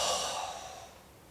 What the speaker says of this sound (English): And breathe all the way out, tightening your heart.